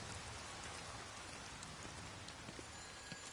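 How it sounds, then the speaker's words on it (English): Steady rain falls outside, a dense even hiss of drops on surfaces with scattered louder patters, faint and continuous with nobody speaking. "It's raining."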